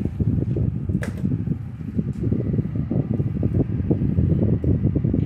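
A Comfort Zone fan with improvised blades runs steadily at its second speed, giving a continuous low whooshing hum with a rhythmic fluttering pulse, fairly close and alone.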